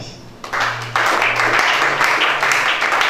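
A church congregation breaks into applause, clapping swelling at about half a second and growing fuller and steadier, with a sustained low hum and some voices mixed in.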